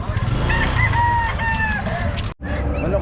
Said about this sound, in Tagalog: Manok lang, manok